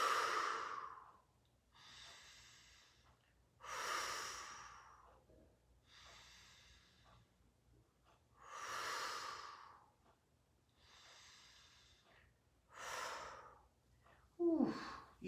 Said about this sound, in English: I want you to give me 4 or 5 huge breaths.